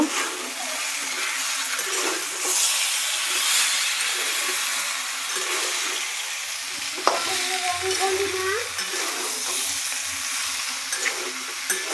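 Jackfruit frying in a pan with salt added, stirred steadily, giving a continuous sizzle broken by scraping strokes and a few light clinks of the utensil against the metal.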